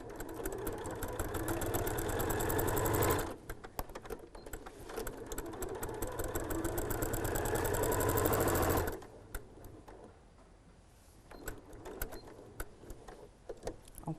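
Sewing machine stitching African wax fabric, a rapid steady mechanical whir in two long bursts with a brief pause between, then stopping, followed by quieter handling clicks and thread pulling.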